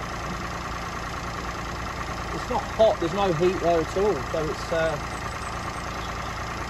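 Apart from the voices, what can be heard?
Peugeot 107 1-litre engine idling after jump start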